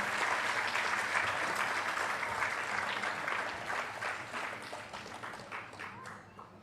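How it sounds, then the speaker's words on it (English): A crowd claps in sustained applause that slowly fades out over several seconds, heard from within the room. "Let's give them a round of applause."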